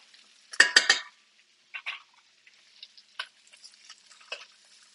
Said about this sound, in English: And the butter bathing continues on the other side.